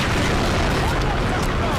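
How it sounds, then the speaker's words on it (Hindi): A truck being blown up with an RPG in Uncharted 3: Drake's Deception, a loud sustained explosive boom and roar filling the whole moment, heavy and close. "इसका आरपीजी उठा के मुझे ट्रक उड़ाना है।"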